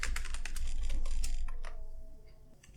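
Rapid typing of code on a computer keyboard, a dense run of close key clicks that slows and thins toward the end, with a faint tone lingering underneath and no talking.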